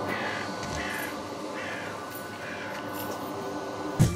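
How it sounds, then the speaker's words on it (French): Crows cawing outdoors in Lyon, several harsh calls over a steady hum of air and background noise, fairly faint rather than close. "il y a plein de corbeaux ici"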